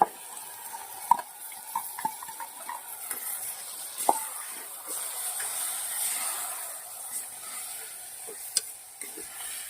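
Soaked mogar dal sautés in a pan with tomatoes, giving a steady soft sizzle and hiss with scattered sharp clicks and scrapes from stirring, moderately close, with no talking.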